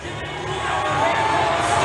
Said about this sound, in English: the crowd is in really good voice